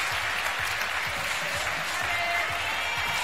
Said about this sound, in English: he's cheering the audience and the audience is cheering him